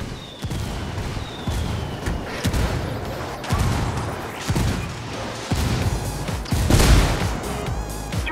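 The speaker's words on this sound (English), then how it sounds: "Fire for effect!" Artillery barrage fired for effect in Ghost Recon Wildlands, a steady run of heavy booms and crashing impacts rolling on for several seconds, with repeated loud blasts over a dense rumbling bed and a sharper peak near the end.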